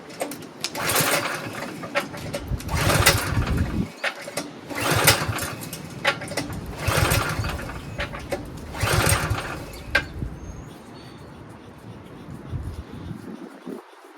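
A Poulan Pro push lawn mower is pull-started again and again: about five rough, raspy cranking bursts, each a couple of seconds long, that never catch, followed by quiet.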